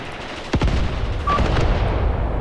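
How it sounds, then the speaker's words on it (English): Artillery fire in the war game Graviteam Tactics Mius Front: one sharp distant blast rolls into a rumbling boom, followed by softer reports and low battlefield noise. "There might also be artillery hitting us."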